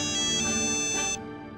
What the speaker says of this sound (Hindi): आदित्य भाई का फोन?